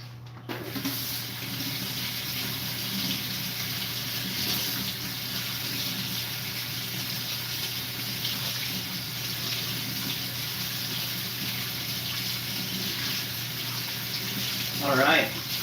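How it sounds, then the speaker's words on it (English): Tap water runs steadily into a kitchen sink while dishes are rinsed, a continuous broadband hiss lasting the whole stretch with a brief splashy clatter near the end. "I'm gonna rinse off some stuff here while I chat with you, so let some things soak there."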